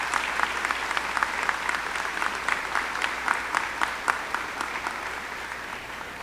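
An audience at a high school commencement in a hall claps in a sustained round of applause, with individual sharp claps standing out from the even crowd noise.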